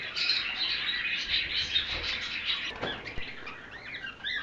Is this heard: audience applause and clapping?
no